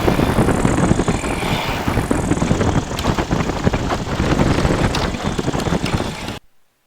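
A PeaBee ultralight aircraft's engine drones loud and steady at close range during a nose-up hover taxi, holding a continuous rumble before cutting off abruptly near the end.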